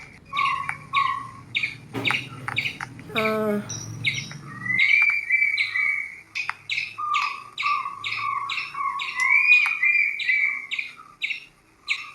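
A squirrel chatters in a sharp, repeated series of high chirps and quick trills, loud and nearby, with a low background rumble fading out partway through.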